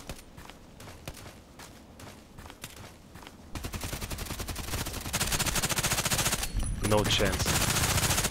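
FN P90 SMG fire in Contract Wars: sparse single shots early, then sustained rapid automatic bursts, loud and close, with a brief spoken line.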